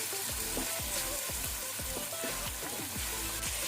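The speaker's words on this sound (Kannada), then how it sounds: "ಟೊಮೆಟೊವನ್ನು ಒಂದು 30 to 40 ಸೆಕೆಂಡ್ ಫ್ರೈ ಮಾಡ್ಕೊಳ್ಳೋ" Tomato frying in a pan for a methi matar pulao, with a steady sizzle underneath and repeated stirring scrapes and clinks at close range; no one speaks.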